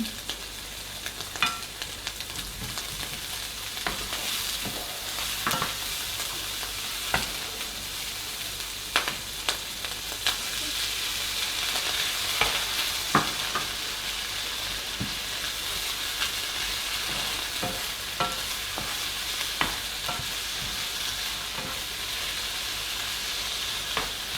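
Ham, tomato and spinach frying in a pan over high heat, a steady crackling sizzle with scattered spatters and light stirring scrapes throughout, close and fairly quiet, with no talking.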